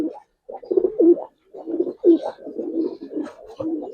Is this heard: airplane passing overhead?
no